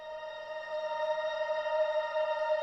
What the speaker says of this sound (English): All vintage does really is add a little bit of distortion and like EQ.